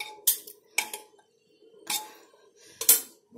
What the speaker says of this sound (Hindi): बहुत ही सावधानी से हमें इस बर्तन को रखना है